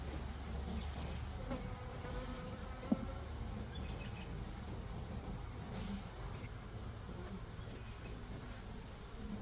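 Honeybees hum in an open beehive during a mid-spring inspection, a faint, steady drone with a soft click partway through.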